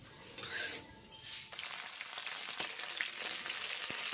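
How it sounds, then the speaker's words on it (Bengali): Cauliflower pieces frying in hot oil, a soft, steady sizzle and crackle that stays fairly faint throughout, with no talking. "ফুলকপিগুলো গরম তেলে ভেজে নিচ্ছি"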